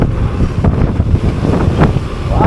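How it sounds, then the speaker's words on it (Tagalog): Strong wind buffeting the microphone beside open water near flooded rice fields, a loud, low, gusty rumble with fluctuating bursts, continuous throughout and without speech. "ang lakas ng hangin."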